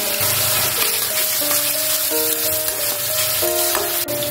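Garlic and chili paste fries in a hot pan, a steady dense sizzle running throughout at close range with faint tonal music beneath and no speech.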